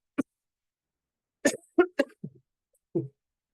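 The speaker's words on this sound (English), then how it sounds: "been coughing" Several short coughs, one alone and then a quick cluster of harsh bursts, close to the microphone with silence between them.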